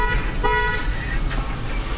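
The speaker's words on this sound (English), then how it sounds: "I don't know if you heard me honk twice and stick my hand out the window" Car horn honking from inside a car on a road, sounding at the start and repeating shortly after over steady engine and road noise.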